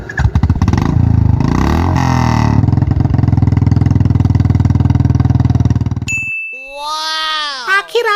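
A Royal Enfield Bullet motorcycle self-starts and settles into a loud, steady thumping idle close by for several seconds, then cuts out as a chime rings and voices speak.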